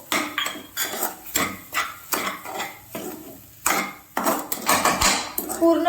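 A spoon scrapes and knocks against a pan while semolina with sugar, milk and cardamom is stirred for mango dry fruit sheera, giving about eight rhythmic strokes of clattering scrapes, near and fairly loud.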